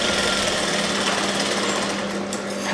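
A sewing machine stitches a blouse, running in a continuous fast mechanical whir and rattle with a steady hum, close by and alone.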